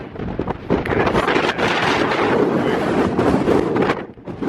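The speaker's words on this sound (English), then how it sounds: "So windy. It's super windy." Loud, continuous wind buffeting the microphone near a glacier in Mt. Cook National Park, New Zealand, a roaring rumble that surges and dips slightly, with no voices heard.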